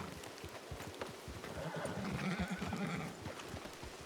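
A horse whinnies in a drawn-out neigh over a busy background of hooves and ambient game noise in a video game, fairly close and clear.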